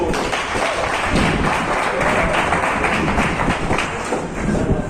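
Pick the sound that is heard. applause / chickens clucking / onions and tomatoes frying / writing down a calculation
applause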